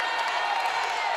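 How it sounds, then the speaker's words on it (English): A basketball crowd at a high school game between Beverly Hills and Lawndale roars and cheers after a blocked shot, a steady loud wash of voices and whoops filling the gym. "And that gets a rise out of the crowd."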